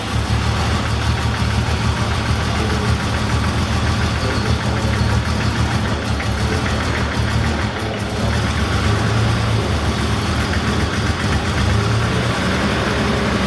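1982 BMW 323i E21 turbo engine with Schnitzer Hardy & Beck conversion idling steadily after finally starting, a loud continuous rumble with a slightly uneven, rough texture.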